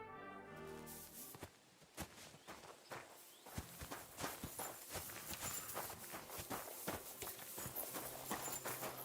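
Horse hooves clip-clop at a walking pace in a video game, a steady run of close, crisp transient steps that continues throughout with no talking.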